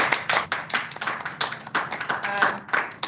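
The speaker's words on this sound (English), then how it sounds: "use your emojis to give a round of applause for our panel" Clapping at an online panel discussion on racial inclusivity, a moderate cluster of hands with an uneven, patchy rhythm that blends with some voices, as if a few people applaud close by.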